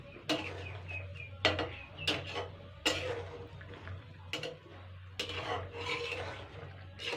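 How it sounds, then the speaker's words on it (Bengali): Metal spoon stirring egg fritter curry with curry leaves and green chillies in a pan, giving a string of clear, close scrapes and clinks against the pan over a low simmering hum. "এটাকে ভালো করে নাড়াচাড়া করে নেব।"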